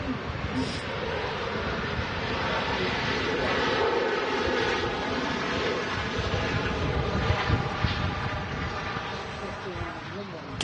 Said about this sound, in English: In from Lisbon is a Ryanair 737.